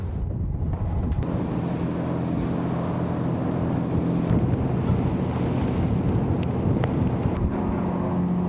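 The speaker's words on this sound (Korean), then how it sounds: "비가 또다시 내리며 3m가 넘는 파도가 치기 시작했다." Steady roar of wind, rain and waves over 3 m high at sea aboard a fishing boat, with broadband spray-like noise throughout and occasional creaks or knocks.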